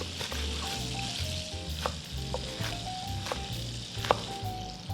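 Venison slider patties sizzle loudly in a pan, a continuous close frying hiss with occasional sharp pops and spatters.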